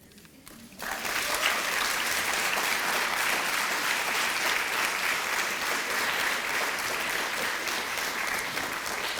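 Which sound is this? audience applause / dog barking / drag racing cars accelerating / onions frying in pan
audience applause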